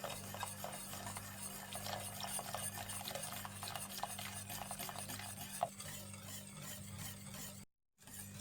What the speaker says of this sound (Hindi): कस्टर्ड पाउडर थोड़ा थोड़ा करके मिला लीजिए और साथ साथ चम्मच भी चलाते रहें